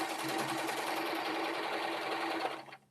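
A sewing machine stitches down fabric in one steady, fast, evenly buzzing run that lasts a couple of seconds before winding down and stopping.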